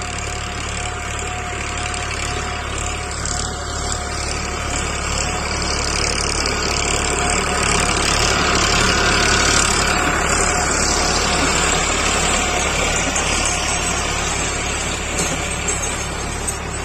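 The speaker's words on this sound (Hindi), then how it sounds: "मेरे पीछे गेहूं की बुआई हो रही है ट्रैक्टर के द्वारा, रूटरवेटर यहाँ पे चल रहा है।" Tractor with a rotavator working a wheat field during winter sowing, a steady loud engine drone with rumbling mechanical knocking that continues unbroken throughout, outdoors with no talk.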